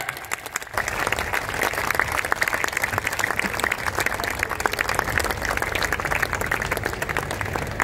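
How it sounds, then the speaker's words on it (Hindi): A standing audience applauds loudly at a formal ceremony, honouring a brand ambassador and guru mata figure; dense, steady clapping from many hands fills the room without pause after a brief quiet start. "खड़े होकर के एक बार जोरदार तालियां, जोरदार तालियां"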